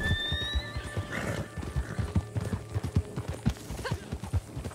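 A horse in the Red Dead Redemption 2 video game gives a high whinny while hooves clip-clop steadily in a rhythmic walking pattern throughout, moderately close.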